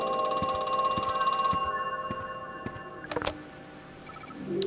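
A telephone rings in the horror video game Crow Country, a bright electronic trill that repeats for a couple of seconds before fading, followed by scattered clicks and soft footsteps in a quiet room.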